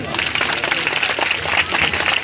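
An audience claps at an outdoor tree-planting festival, a steady wash of applause that runs without a break, with voices mixed in.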